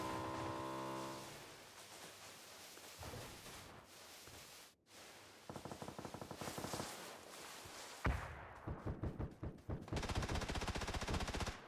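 Gunfire in the video game PUBG comes as bursts of rapid automatic shots, some distant and some closer and louder. The strings of cracks are separated by short lulls, and the last few seconds are heavier.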